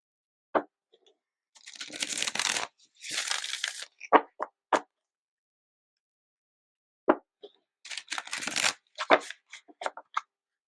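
Tarot cards shuffled in two bursts of riffling and sliding, separated by a pause, with a few sharp taps between, close and fairly quiet, no talking.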